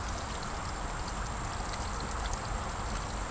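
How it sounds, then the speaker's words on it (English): Two aquarium air stones bubble in a water-filled container, giving a steady, continuous fizzing wash with no pauses or voices. "there are 2 air stones in there bubbling"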